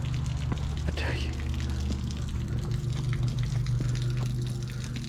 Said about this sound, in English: water's still kind of blowing out of there